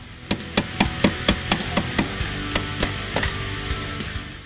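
A hammer striking a small punch to drive the door hinge pin out of a 1982–1993 Foxbody Mustang door, giving a steady run of about a dozen sharp metallic blows, close and loud, with no talking.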